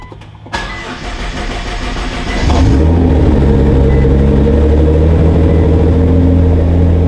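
A Nissan GT-R engine cranks and catches, then settles into a loud, deep, steady rumble close by.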